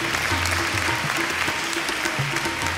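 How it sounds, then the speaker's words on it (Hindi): An audience at a live Punjabi and Urdu music show in London gives loud, sustained applause. The clapping is dense and continuous, with a few voices faintly mixed in. "Please give him a big hand please."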